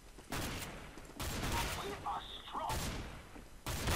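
Gunfire in the video game Counter-Strike GO comes as several sharp, loud bursts spread across a few seconds, with quieter gaps between the volleys.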